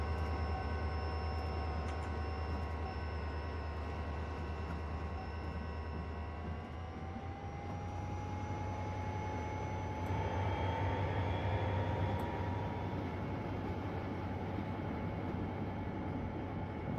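An SD40 locomotive in a train simulator game rumbles steadily for the whole stretch, a constant low engine drone with sustained tonal whine and wheel noise. No one speaks.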